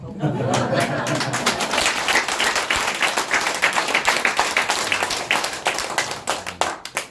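Congregation clapping in a church gathering, a dense, loud stream of many hands striking fast and steady for several seconds, with murmured voices and a few chuckles mixed underneath.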